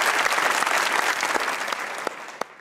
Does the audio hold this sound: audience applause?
yes